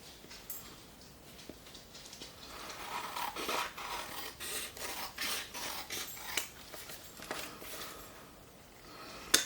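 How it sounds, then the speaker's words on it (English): The edge of an embossed journal being trimmed, heard as close, quiet rasping and scraping strokes in an irregular series, with a sharper click near the end and no talking. "I need to trim up the edge just a hair."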